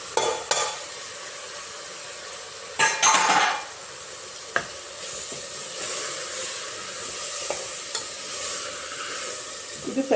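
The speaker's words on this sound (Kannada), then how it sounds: "ಇದು ಸ್ವಲ್ಪ ಚೆನ್ನಾಗಿ ಫ್ರೈ ಆಗಲಿ." Sour tomatoes frying with salt in a pan while being stirred, giving a steady close sizzle broken by several sharp scrapes and clinks of a spoon against the metal pan.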